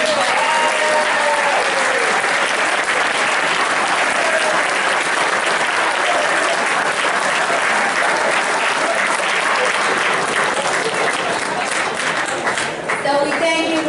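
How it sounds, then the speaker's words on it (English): Sustained applause from an audience at a town board meeting honoring high school state champion athletes, steady dense clapping throughout with crowd murmur and a few voices beneath, tapering slightly at the end. "Let's give them a big round of applause."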